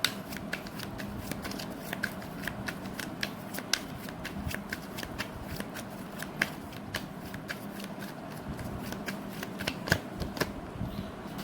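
A tarot card deck is shuffled for a card reading with a long run of crisp, rapid riffles and flicks, held close and steady throughout, with no voices.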